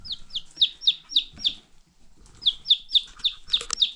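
Short, high-pitched chirping calls from young chickens repeat in quick runs, pausing briefly midway, with faint low rustling underneath.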